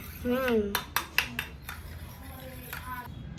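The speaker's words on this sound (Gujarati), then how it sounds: "તો દૂધ ને દહીં બે મિક્સ કરી દઈએ આપણે" A spoon clinks and scrapes against a bowl as milk and curd are mixed, giving several sharp metallic taps close up, with a voice speaking briefly at the start.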